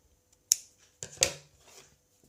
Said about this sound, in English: and then snip that off